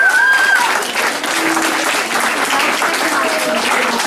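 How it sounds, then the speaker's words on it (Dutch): Sustained applause from an audience at the festive opening of an EU infopoint, dense steady clapping filling the room for several seconds with a few faint tonal sounds drifting through. "En ik wil dat José en Menno daarvoor een groot applaus krijgen."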